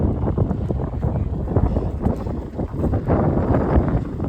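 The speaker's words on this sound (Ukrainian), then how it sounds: "Дуже сильний вітер" Strong wind buffets the microphone in loud, gusty low rumbles that pulse continuously throughout, with no other clear sounds.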